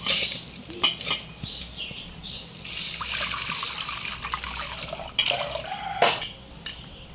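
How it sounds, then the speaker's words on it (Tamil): Water sloshes and trickles in a metal pot while moong dal lentils are swirled and rinsed by hand, with occasional clinks of the vessel. "பாசிப்பருப்பு ஒரு 50 கிராம் எடுத்து சேர்த்துக்கிறேன். நல்லா கழுவிக்கணும்."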